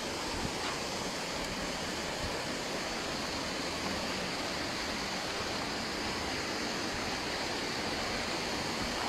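A waterfall at Catemaco, Mexico, heard from close by or from within the falls, gives a steady, dense roar of rushing water that stays loud and even throughout, with no voices.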